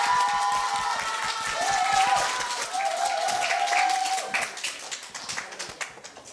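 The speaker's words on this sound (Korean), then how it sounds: "다 같이 큰 함성과 박수로 맞이해주세요." Crowd of students at a university speaking festival clapping and cheering to welcome a magician onstage, loud sustained applause over a musical sting that tapers into scattered claps.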